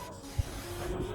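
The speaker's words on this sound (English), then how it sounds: "Next, we spray the solution onto the orchid leaves." A spray bottle misting a solution onto orchid leaves, a short soft hiss of fine spray up close that lasts about a second.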